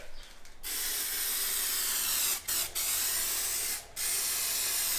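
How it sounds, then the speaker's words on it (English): Spray paint in World Rally Blue going onto an aftermarket front lip or side skirt part for a 2013 Subaru STI, a loud close continuous hiss in long bursts with brief gaps between passes. "And now it's time for some World Rally Blue paint"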